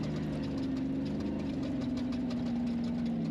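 An off-road race car engine at King of the Hammers runs as a steady, rough, knocking drone with a constant low hum and no talking.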